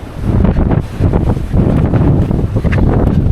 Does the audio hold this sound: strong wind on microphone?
yes